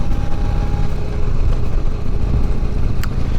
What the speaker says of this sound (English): I generally don't like to take my air-cooled motorcycle out for a ride when it is not getting air-cooled.